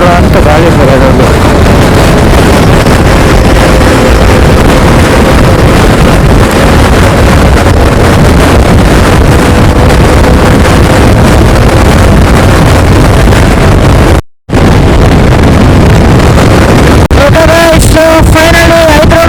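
Wind roars over a motorbike on a long highway ride from Bangalore toward Ladakh, a loud, constant buffeting rush with a low engine drone and one brief dropout.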